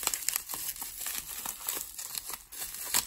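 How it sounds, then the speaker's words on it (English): Tape being pulled and peeled off a mystery football card pack package, giving close, continuous crinkling and tearing with scattered sharp crackles and no talk. "Get all the tape out of there."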